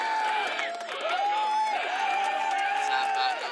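A studio audience at a podcast taping cheers and whoops in a steady, lively burst, heard close and bright under a voice.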